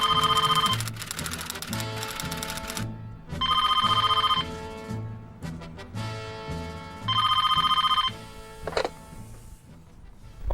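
Old-style telephone bell rings in repeated loud bursts with short pauses between, over a steady electronic tune, in a scene where a general demands the phone.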